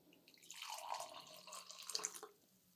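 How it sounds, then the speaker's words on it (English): Hot coffee being poured out into a cup: one continuous liquid pour lasting about two seconds, rising and then tapering off, close and quiet with no other sounds. "I'm pouring out my coffee."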